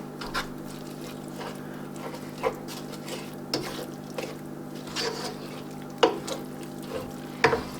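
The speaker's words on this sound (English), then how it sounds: "Gotta just keep stirring it." A spoon stirs an appetizer stuffing mixture in a hot sizzling pan, steady frying hiss beneath irregular scraping strokes and occasional sharper clinks, close and moderately loud, with no talk.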